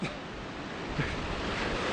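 Ocean waves break along a California shoreline as a steady, close wash of surf, with wind rushing across the microphone throughout and a slight swell near the end.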